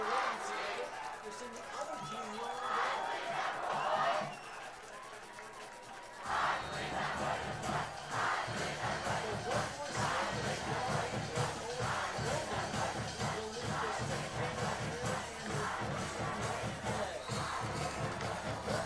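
A high school basketball crowd in a gym chanting rhythmically after a win, many voices loud and echoing, briefly quieter then surging back into repeated chants with a commentator talking over it.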